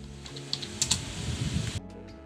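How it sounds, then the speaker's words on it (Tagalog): Fingers type quickly on a white-lit N518 keyboard. The keystrokes are soft and close, in a steady run that stops abruptly after nearly two seconds. "Ganito yung tunog niya pag nagtatype."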